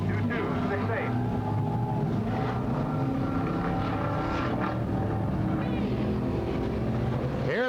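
A race car engine at Altamont Raceway in 1983 runs its warm-up lap on the back straightaway, a continuous droning roar that shifts in pitch as it passes, with a faint voice mixed in.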